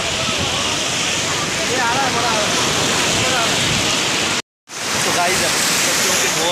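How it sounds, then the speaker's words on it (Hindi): Sea waves crash on the rocky shore of Somnath beach, a loud continuous roar of surf and churning water with a brief cut in the middle, while someone talks over it. "खतरनाक लहरें आ रही है यहाँ पे"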